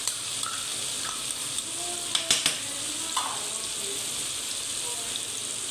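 Turmeric, coriander, cumin and chaat masala hit softened tomatoes frying in a pan for daal kaddu, giving a steady, close sizzle with a few sharp clinks and stirring scrapes.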